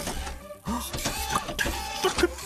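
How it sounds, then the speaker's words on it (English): Cartoon robot vacuum cleaner dusting in a Mr Bean animated episode, busy mechanical whirring with clicks, beeps and short tonal chirps in quick succession. "Vacuum dust."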